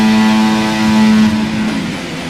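F1 car engine in F1 24 holding a loud, high, steady whine that wavers and drops slightly near the end, close and alone without talk.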